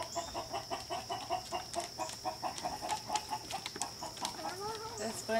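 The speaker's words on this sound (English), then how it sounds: "Hear that one in there? That's the rooster." Chickens cluck in irregular bursts while being fed at close range, with a rooster's call rising among them near the end over a steady background hum.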